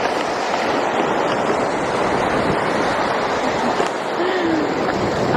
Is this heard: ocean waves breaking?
yes